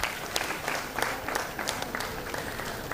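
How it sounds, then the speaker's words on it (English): An audience at a university convocation ceremony claps steadily, with dense, continuous applause from a large crowd filling the hall. "A big round of applause for Srinivas R."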